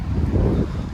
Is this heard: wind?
yes